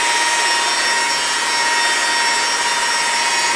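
A machine polisher hums steadily as it buffs fresh paint on a car, a constant loud whir with no breaks.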